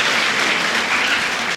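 Audience applause at a school annual day event, a dense, loud wash of clapping from a large crowd that holds steady throughout and cuts off sharply at the end.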